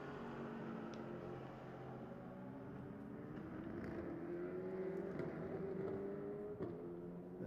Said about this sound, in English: Macier, the Spaniard, about to blast past the CD Sports car